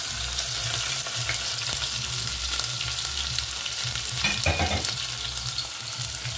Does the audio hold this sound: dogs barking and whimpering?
no